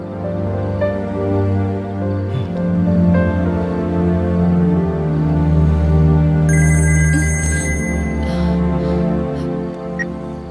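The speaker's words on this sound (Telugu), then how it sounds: "డాడీ కాల్ చేస్తున్నారు" A phone rings with an incoming call from Daddy, its repeating electronic ringtone melody sounding loud and close over a held musical tone, with a brighter chiming burst joining partway through and no talking.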